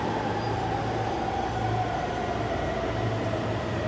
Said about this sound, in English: it's the Shonan Shinjuku line train